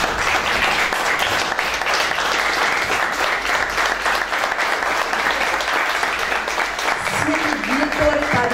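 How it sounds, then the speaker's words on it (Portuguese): Standing audience applause at a formal commemorative ceremony, loud, dense and steady throughout, with a brief voice emerging near the end. "peço, primeiramente, que todos os membros do gabinete diretor aqui presente, por favor, se levantem para uma salva de palmas."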